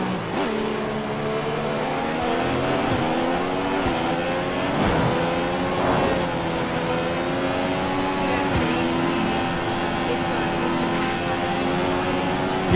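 An F1 car in the video game F1 2015, at the USA round, screams at full throttle with a loud, continuous high-revving engine whine whose pitch climbs and dips through gear changes and braking, close and sustained.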